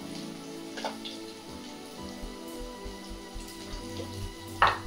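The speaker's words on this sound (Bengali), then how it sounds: "পটলগুলো আমি সুন্দর করে ভেজে নিচ্ছি।" Pointed gourd (potol) pieces fry in hot oil, a soft crackling patter with scattered pops and a few light clinks, close and moderately quiet throughout.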